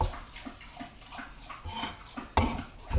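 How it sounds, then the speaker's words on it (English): A dog laps water from a bowl in a kitchen, quick wet splashing laps in uneven bursts, fairly close and quiet, with a louder splash near the end. "Pardon my dog drinking water."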